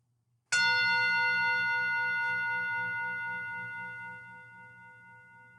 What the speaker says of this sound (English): this is a Tibetan singing bowl